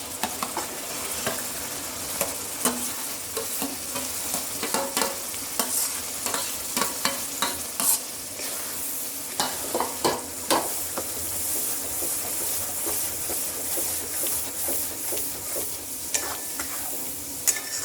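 Onion and coriander paste sautéing in hot oil for a rustic homemade mutton curry, a steady close sizzle broken by frequent scraping stirs throughout, with no voices.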